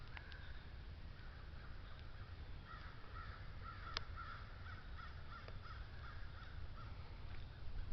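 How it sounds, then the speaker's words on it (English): Crows caw faintly from distant trees, repeated rough calls scattered over a constant background rumble, with one brief sharper snap. "Sound like I hear crows from trees."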